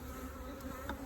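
Honey bees from a package colony hum at an opened hive during an inspection, a faint, steady buzzing drone close by with no talking.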